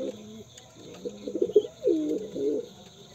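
A pigeon chick sick with pox gives soft, low coos in a few short bursts, fairly close and faint against a quiet background.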